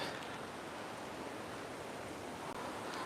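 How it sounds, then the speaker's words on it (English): Steady, full-band rush of creek water flowing through a city park, a continuous even wash with no voices. "what's kind of cool about this park right here is they have a creek."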